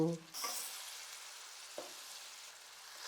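Ginger garlic paste and tomatoes go into a hot curry pan for an eggplant, raw mango and drumstick curry, setting off a steady hissing sizzle after a brief voice at the start, with one light utensil clink partway through.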